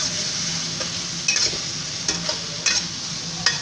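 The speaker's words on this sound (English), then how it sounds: "It's on the high heat. Keep stirring it." Curry stirred over high heat in a pan, a steady close sizzle with a few sharp scraping strokes of the spoon scattered through it, no voices.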